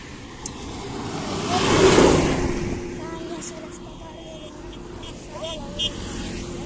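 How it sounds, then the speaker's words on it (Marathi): A truck passes on a rural road near farmland, its engine swelling to a loud rumble as it goes by close up and then fading away, while people talk. "हा ट्रक येतो."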